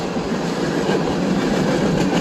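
A train rolls past close by with a loud, steady rumble and rattling railcars, faint wheel clatter running throughout, no voices.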